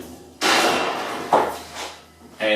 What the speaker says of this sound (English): you can simply lift the back lid off